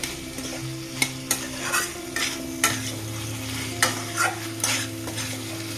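Masala frying in a pan for matar pulao, stirred with a spoon: a continuous sizzle broken by repeated sharp scrapes and clinks of the spoon against the pan at an irregular pace, close and clear, with no talking.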